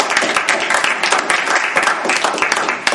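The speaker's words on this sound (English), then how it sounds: "Let's give another round of applause to our speaker." An audience at a Toastmasters club meeting claps for a speaker, dense steady applause from a room full of people, loud and continuous for a few seconds.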